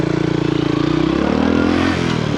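A Honda CT125 motorcycle on the move, its small engine putting out a steady rhythmic low putter close up, with a slight pitch change as it rides along.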